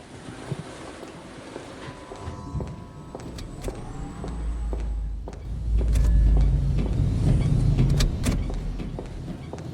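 A character climbs into a car in the video game The Signifier: a door clunk and soft interior shuffling, then a low engine rumble and wind-like roar that swells in the second half, heard alone without talk.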